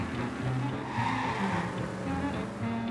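A car driven in the Mafia Definitive Edition video game, a steady engine hum with shifting tones and some tire noise, moderately loud and close, with no talking.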